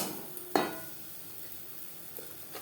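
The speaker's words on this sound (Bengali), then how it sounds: "পেঁয়াজ ভাজা হয়ে গেছে এবার দিয়ে দেবো মশলার পেস্ট পেঁয়াজের সাথে মশলা বেশ ভালো করে মিক্সড করে দেবো" Frying onion sizzles in a pan while spice paste is stirred in for a Bengali katla fish belly tel jhal. A single sharp clack of a utensil is followed by a faint steady sizzle and soft scraping.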